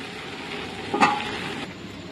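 Mutton liver curry is stirred in a pan, a soft sizzle underneath with one brief scraping clatter of the spoon in the middle, close by and without speech.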